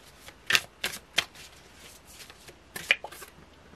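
Tarot cards being shuffled in several quick riffling bursts, crisp and close, with brief pauses between them.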